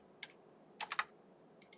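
Sparse keystrokes on a computer keyboard turned sideways: one lone click, then a quick burst of three clicks and a final pair, all light and close, with no talk.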